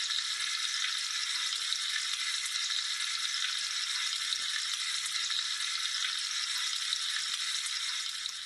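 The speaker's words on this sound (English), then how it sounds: "the sound of the fireman's breakfast sizzling on the shovel" A steady, crackling sizzle of a fireman's breakfast frying on a shovel, a sound effect from a Hornby model locomotive, continues evenly throughout, fairly quiet and alone, like a small sound effect playing on a loop.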